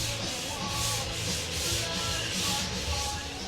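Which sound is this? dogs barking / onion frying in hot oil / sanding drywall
sanding drywall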